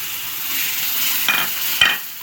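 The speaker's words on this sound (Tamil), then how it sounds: "இப்போ கடுகு வந்து நல்லா பொறிஞ்சு வந்துருச்சு இந்த ஸ்டேஜில் நம்ம இதை வந்து போட்டுருணும் புதினாவை" Mint leaves dropped into hot oil with popped mustard seeds, a bright steady sizzle in a pan broken by two short scraping stirs.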